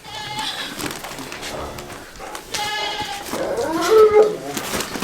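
Several goats bleat repeatedly close by in overlapping wavering calls, with a person's voice faintly mixed in.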